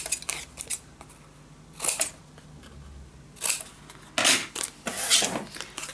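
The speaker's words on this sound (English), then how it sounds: "Let's cut the corners." Scissors snip paper corners, a series of short, crisp cuts in irregular clusters, close and fairly quiet, with soft handling sounds between the snips.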